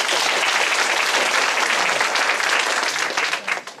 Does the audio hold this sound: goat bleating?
no